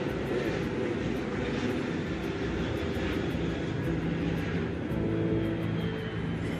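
An airliner lands right beside workers at Heathrow Airport, a loud continuous engine roar and rumble that stays close and steady, with wind noise mixed in.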